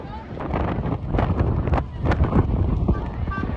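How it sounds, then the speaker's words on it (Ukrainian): Strong storm wind near Big Ben in London buffets the microphone in rough, gusting rumbles, with faint voices in the background. "всіх просто вітром зносив. У нас тут штурмове попередження, реально"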